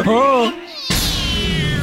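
Cartoon cats in an animated Motu Patlu episode give loud, close meows with rising and falling pitch, then a sharper higher-pitched yowl follows after a brief pause.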